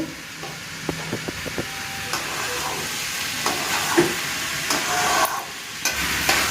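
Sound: frying rice and lentils in a pan

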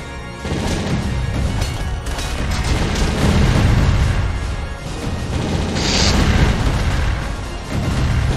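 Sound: explosions in the video game Castle Crashers

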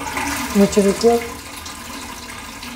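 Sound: toilet cistern flushing after button press

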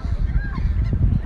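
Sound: seagulls calling by the sea in Busan

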